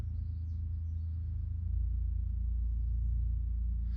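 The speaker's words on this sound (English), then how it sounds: "that's my neighbor's lovely straight piped piece of crap little Ford truck" A straight-piped little Ford truck drives past outside, heard from inside a garage as a deep, throbbing exhaust rumble that swells and holds steady, with faint birdsong above it.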